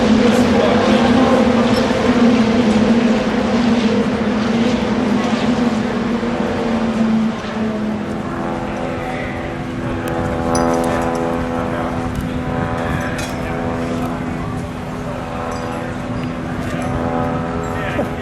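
A 1971 Brawner McGee Scorpion Indy 500 racecar engine idling loudly and steadily, a dense droning rumble with a harmonic whine that settles slightly lower partway through, with voices faintly underneath.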